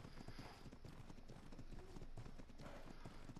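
In the survival video game Ark, a ridden horse's hooves clip-clop in a steady, continuous trotting rhythm, quiet and unbroken throughout.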